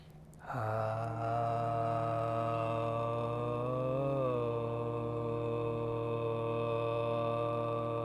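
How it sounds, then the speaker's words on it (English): Several voices sustain a long, steady Om chant together at the close of a yoga class, a rich harmonic drone holding unbroken for several seconds after a brief breath at the start. "Let's seal this intention with the sound of Om"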